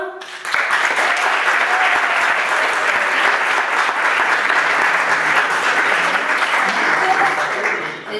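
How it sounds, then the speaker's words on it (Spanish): A crowd at an international academic meeting with a student prize breaks into dense, sustained applause, loud and continuous for several seconds before fading out. "Un aplauso."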